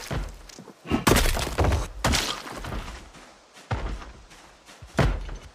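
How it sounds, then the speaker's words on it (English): In the zombie survival game Project Zomboid, something bangs on a door indoors: several heavy irregular thuds and slams spaced across a few seconds, fairly loud against a murky background. "There's something else inside banging on a door."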